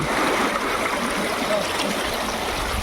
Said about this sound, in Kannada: ಮೇಲೆ ಹೋಗೋ ರೂಟ್ನಲ್ಲಿ ನಿಮಗೆ ಒಳ್ಳೊಳ್ಳೆ ಫಾಲ್ಸ್ಗಳು ಸಿಗುತ್ತೆ ಹಾಗೆ ನೀರಿನ ಹರಿಗಳು ಸಿಗುತ್ತೆ ನೋಡಿ ನೀರಿನ ಜರಿ